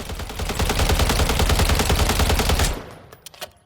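CZ BREN 2 rifle fired in Call of Duty Modern Warfare III, a loud sustained rapid burst of automatic shots for nearly three seconds, then stopping with a few faint clicks.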